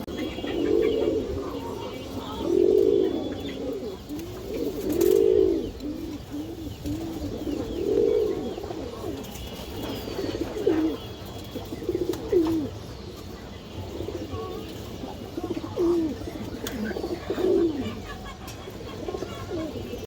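Indian High Flyer pigeons cooing in a coop, repeated low throaty coos about every two to three seconds, close and clear over a quiet background.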